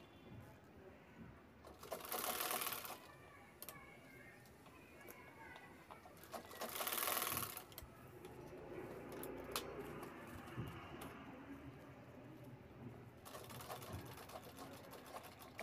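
A sewing machine stitches a zip onto a bag in short bursts of rapid whirring, separated by quieter pauses and faint handling noises.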